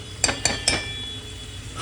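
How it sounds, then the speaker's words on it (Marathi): A utensil stirs drumstick vegetable curry in a pan over a low flame, giving three quick metallic clinks close by, then a soft steady background hiss. "पुन्हा आपण हलवून बघूया।"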